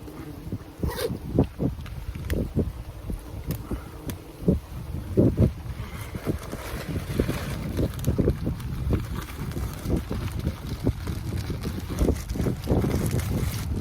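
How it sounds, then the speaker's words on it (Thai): Strong wind buffets the microphone outdoors during wild honeybee nest harvesting, with steady broadband rushing and repeated gusty thumps throughout, close and fairly loud, no clear speech. "ลมแรง โดนตลอดลมแรงนี่"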